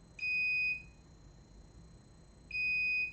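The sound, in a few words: bench power supply beeping as it goes into protection mode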